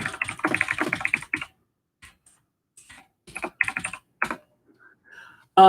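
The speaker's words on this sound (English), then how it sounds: "I'm going to talk and type at the same time." Typing on a computer keyboard comes in irregular bursts of close clicking separated by short pauses, ending on a sharper loud clatter.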